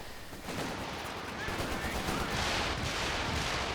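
Mortar blasts and rapid gunfire from a real-time strategy war game, a dense continuous barrage that swells slightly louder midway and holds steady, with battle noise filling the whole stretch.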